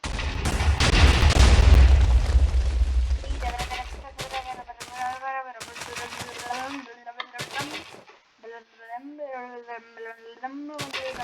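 Blocky TNT blasts in a video game: a loud, heavy boom dominates the first few seconds, then quieter game effects and tonal chirps continue with gaps of near silence.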